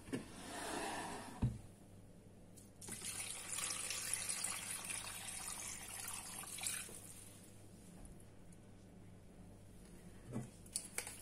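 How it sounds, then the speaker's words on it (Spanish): Water runs steadily into a cooking pot from a tap, covering ingredients for Córdoba-style tripe stew, with a hissing, splashing flow that shifts in tone as the level rises and no one speaking. "Y lo cubrimos otra vez de agua."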